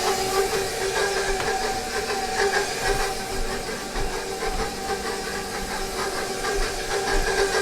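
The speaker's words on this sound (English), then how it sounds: "I just noticed I got water boiling" Water at a rolling boil in a pot on a stove, giving a steady, fairly loud hiss and bubbling that continues without pause and with no talking.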